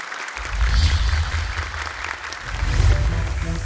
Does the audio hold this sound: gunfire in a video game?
no